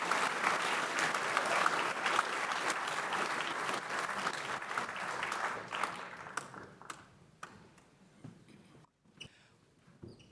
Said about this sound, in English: can we please have a round of applause for the insights that have just been shared?